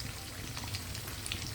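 Tofu frying in hot oil in a pan, a quiet steady sizzle with scattered crackles and pops, no voices.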